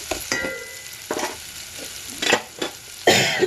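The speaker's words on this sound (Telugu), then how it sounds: "ఇక్కడ వచ్చేసి బాగా వేగాలి. పల్లీలు వేగితే బాగుంటుంది" Peanuts frying in a pan for amla pulihora, with a soft continuous sizzle broken by several bright scraping stirs, the loudest near the end; no voices.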